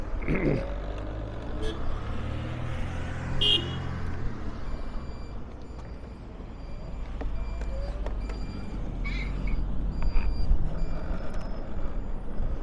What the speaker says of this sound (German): Hier kommt der 90er an, der fährt nach Playa del Cura.